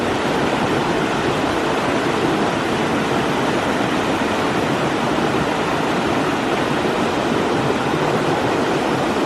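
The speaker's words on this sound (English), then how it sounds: "So we've crossed this stream a couple times on our hike." A stream in Scotland rushes steadily over rocks, a loud, constant broadband wash of flowing water up close with no pauses or voices.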